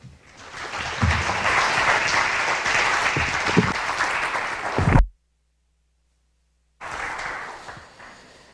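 Audience applause for a lecture speaker being welcomed, a dense steady clapping for about five seconds that cuts to silence, then resumes briefly.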